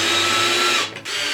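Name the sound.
power drill drilling through pegboard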